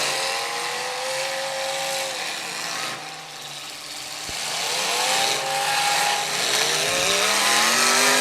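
A race car engine revs hard and wavers through rising and falling harmonics as the car spins in the tires with smoke coming off them, loud and sustained, with a brief dip midway and no talk.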